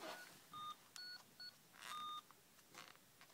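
A series of short electronic beeps in different pitches, like keypad tones, sound in quick succession against a quiet background.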